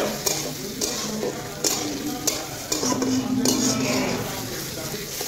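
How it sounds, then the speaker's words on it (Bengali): Spoon stirring tarka dal in a pan, scraping and clinking against the metal over a steady sizzle, with occasional sharper knocks and faint voices in the background. "আমি শুধু নাড়াচাড়া করছি"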